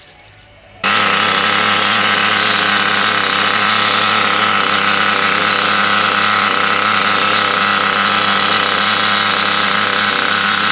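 A Picco P7 Evo 3 model nitro engine with the glow starter still attached fires up after a brief quiet moment and then runs at a loud, steady high-pitched buzzing whine without letting up.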